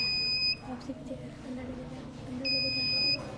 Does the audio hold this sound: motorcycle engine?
no